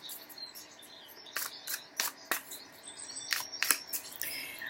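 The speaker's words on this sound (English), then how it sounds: "All the birds outside my window here in Brazil." Recorded birdsong streamed from Spotify plays as a nature sound, with scattered bright chirps and short tweets over a faint, hissy background, growing busier and somewhat louder toward the end.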